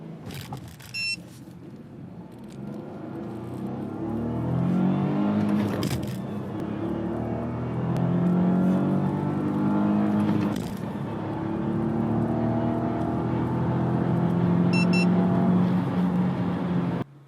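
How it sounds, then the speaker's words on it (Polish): A Dacia Duster running on LPG accelerates hard, its engine note rising steadily and loudly over about seventeen seconds with brief pauses at gear changes, heard up close from inside or near the car with no one talking. "zobaczcie sami, jak ten samochód przyspiesza zarówno na gazie, jak i na benzynie"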